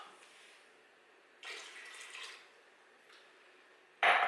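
Water is poured into an Instant Pot for polenta in a home kitchen, a faint trickle followed by a short splashing pour, quiet gaps, and another brief louder splash at the end.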